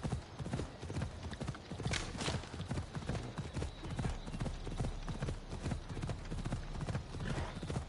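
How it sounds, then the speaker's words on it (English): Horse hooves in Assassin's Creed Odyssey clip-clop in a steady, brisk rhythm, close and continuous, with a faint whinny. "Have we got a horse with us? We have got a horse."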